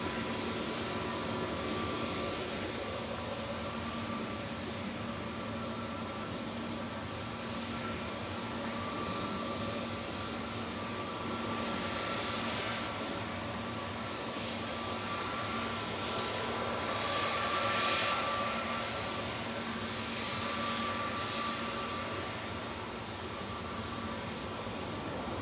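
A Ryanair airliner touches down at Manchester Airport, a sustained, distant jet engine roar that swells gently and stays steady, with no voices over it.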